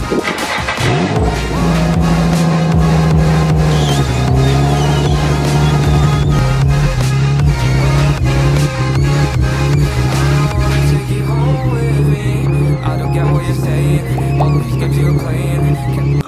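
Failing CV joint on a Nissan 350z drive shaft, turning with the wheel removed: a loud, continuous droning whine with a rapid run of rhythmic clicks and ticks running through it, close by.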